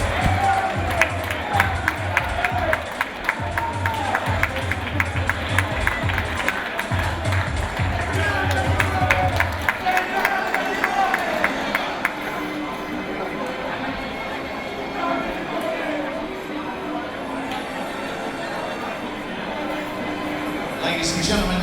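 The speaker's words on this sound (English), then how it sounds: "give a round of applause for both these fighters" Crowd at an MMA event cheering and clapping after a fight, a dense roar with rapid rhythmic claps and stamping, loud at first then thinning, with voices talking throughout.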